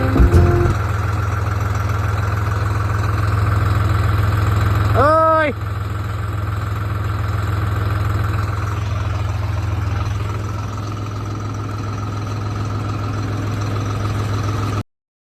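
A tractor fitted with a rotavator idles at a farm plot with a steady, close, low diesel drone. A brief sweeping tone rises and falls partway through, and the engine then continues unchanged.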